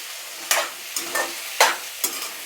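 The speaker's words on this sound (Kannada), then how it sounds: "ಅಲ್ಲಿವರೆಗೂ ಸ್ವಲ್ಪ ಲೈಟಾಗಿ ಫ್ರೈ ಮಾಡ್ಕೋಬೇಕಾಗತ್ತೆ." Onions and tomatoes frying lightly in a pan for restaurant-style paneer butter masala, with a steady sizzle broken by five or six distinct scraping stir strokes at a slow, uneven rhythm, close and fairly loud with no talking.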